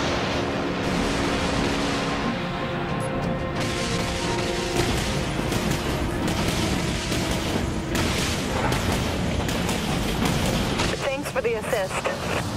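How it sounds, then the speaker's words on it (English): Torpedoes launching from a T3 destroyer in the naval combat game Dreadnought, heavy booming thumps and rushing water-like noise under a steady game soundscape, with a synthetic voice announcing over the action. "Torpedo lock. Launching torpedoes."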